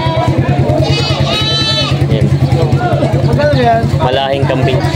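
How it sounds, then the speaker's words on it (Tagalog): Large goats for sale at a Filipino livestock market bleat over a constant crowd murmur and nearby talking, several wavering cries rising in turn against the busy, steady background. "Malaking kambing."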